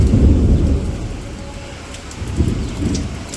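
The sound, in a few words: heavy rain with thunder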